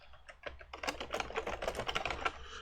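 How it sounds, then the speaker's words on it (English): Fingers type rapidly on a computer keyboard, a close, dense run of light clicking keystrokes that carries on without a break; no voices. "if I start typing here"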